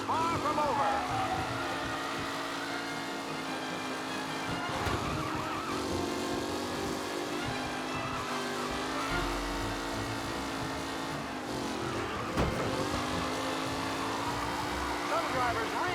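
Race cars in a pack during a race in Mafia: Definitive Edition, with continuous loud engine whine, shifting revs and occasional tire squeal, and a voice talking over it.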